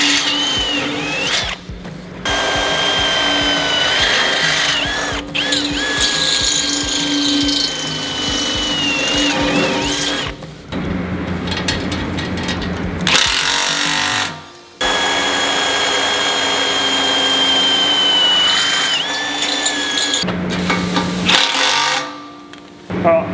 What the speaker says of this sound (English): You can get a friend to hold it more in line with what you want while you drill it. It's an 8mm hole.